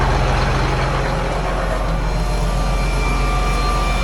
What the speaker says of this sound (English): I need to go make sure that blower's running right.